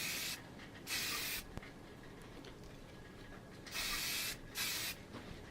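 A spray can laying a coat of primer paint onto a plastic model kit of the U.S.S. Enterprise, heard as three or four short soft hissing bursts separated by quiet gaps.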